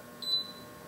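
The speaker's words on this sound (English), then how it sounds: "Once you hear that elongated beep, you can hit your start stop and your first program is set." The digital controls on a Cadco oven give one short, quiet, high-pitched electronic beep over a low background hum.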